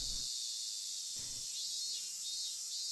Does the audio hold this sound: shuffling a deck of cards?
no